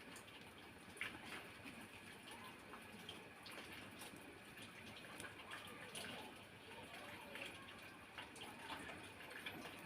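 Kulfa greens being washed under running tap water, a steady splashing gush with scattered small clinks and handling noises throughout, fairly close and continuous.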